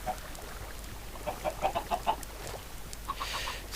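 Chicken in a video game giving a short run of rapid clucks, fairly close and moderately loud, then a couple more clucks a moment later.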